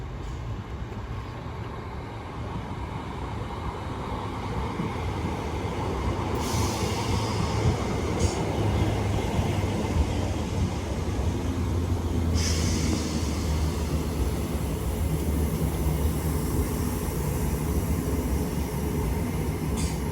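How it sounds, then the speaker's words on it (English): A Class 319 electric train pulls into St Helens Junction bound for Liverpool Lime Street, its rumble building as it draws near, with a couple of sharp hissing brake releases along the way. "Train now arriving is Class 319 heading to Liverpool Lime Street."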